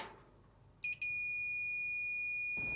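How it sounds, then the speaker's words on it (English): Multimeter continuity beep as the probes touch, two short chirps followed by a steady high tone held for over a second in a quiet room. "If there is continuity, the meter will beep"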